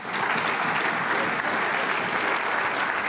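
A crowd applauds loudly and steadily, a dense wash of clapping lasting the whole few seconds.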